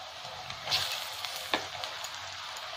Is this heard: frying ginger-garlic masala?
yes